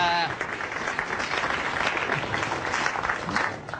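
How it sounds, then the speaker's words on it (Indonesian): Audience applause at a stand-up comedy battle show: a crowd clapping in a steady, moderately loud wash, with a voice speaking briefly at the start before the clapping carries on alone. "Tepuk tangan dong buat semuanya."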